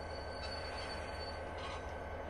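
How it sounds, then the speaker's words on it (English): Freight train rolling slowly into a siding at Cajon Pass, a steady dense rumble of rail cars with faint wheel squeal on top, continuous and close, no voices. "I'm going to give a little bit of room at the back of the train here to make sure we're a little further into the siding here."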